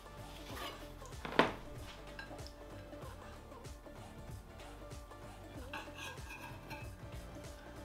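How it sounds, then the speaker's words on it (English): Metallic clinks and scrapes come from a knife drawn out of its sheath and cut through a morel mushroom outdoors. There is one sharp ringing hit, then soft steady cutting and handling noise. "Take our knife out of the sheath without cutting our hand off."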